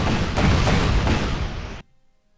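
Artillery fire in the strategy game Panzer Corps Gold during a Sevastopol assault, one loud rumbling blast of about two seconds that cuts off abruptly into silence.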